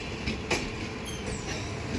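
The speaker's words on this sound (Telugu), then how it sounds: "అన్రిజర్వ్డ్ ట్రైన్ ఇది." An unreserved passenger train runs along the Konkan Railway in the evening. Its rolling, clattering rumble is steady and fills the whole moment, with no voices.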